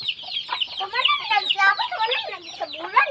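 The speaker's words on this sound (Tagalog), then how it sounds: "Yan po mga alaga nating chicken. Native chicken." Native chickens kept on a backyard farm cluck and chatter in a busy, overlapping flock, close by and fairly loud, with no talk over them.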